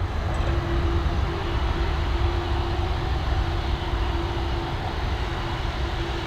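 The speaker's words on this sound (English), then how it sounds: "There we go, the Ryanair Learjet up and away." Ryanair Learjet taking off from Dublin Airport runway 10R, a steady, broad jet roar with a faint sustained whine running through it, held at a constant loudness across the clip.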